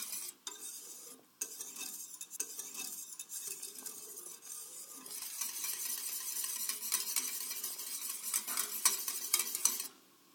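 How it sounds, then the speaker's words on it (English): A spoon stirs béchamel in a pot and scrapes around its bottom edges, giving a steady soft scraping and swishing that grows denser toward the end, with faint clinks against the metal. "Stir occasionally, making sure to scrape around the bottom edges of the pot."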